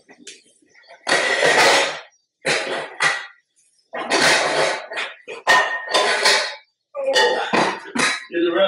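Pots and pans are handled while making a roasted chicken brown stock, giving loud, intermittent bursts of metallic clatter separated by short quiet gaps.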